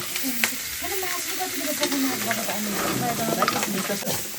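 Vegetable curry cooking in a pan without oil, a steady sizzle with stirring scrapes while people talk in the background.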